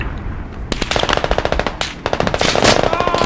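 Squad gameplay gunfire: fast rhythmic automatic bursts close by, loud and sharp, with a brief pause before firing resumes, no voices over it.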